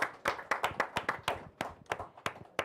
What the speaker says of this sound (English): A round of applause again, guys.